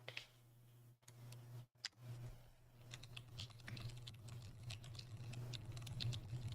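Keys clack on a Mode Encore mechanical keyboard, a quiet run of close, irregular taps after a couple of brief pauses, growing denser toward the end over a low steady hum.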